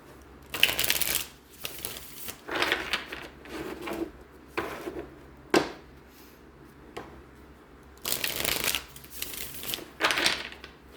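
A newly bought Lunasoul tarot deck being shuffled by hand, close and clear: repeated papery riffles and slides in irregular bursts, with short pauses between handfuls and no talking.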